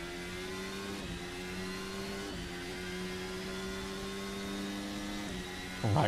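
A racing video game car at Interlagos holds a steady, droning engine note with a strong tonal whine, shifting pitch slightly a few times as the throttle stays pushed, loud and continuous with no talk.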